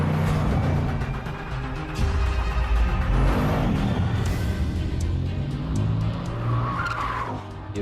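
A Bugatti Chiron prototype driving on the Nardo banked circuit in Italy, with a steady, loud engine drone and tire noise that continues throughout.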